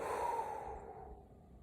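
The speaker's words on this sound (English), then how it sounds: "breathing out 4 seconds through your mouth" A single slow breath is pushed out through the mouth, a soft, close airy exhale that starts fuller and trails off quietly, alone with no talking.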